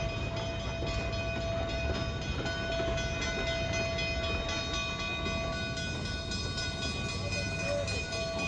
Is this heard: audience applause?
no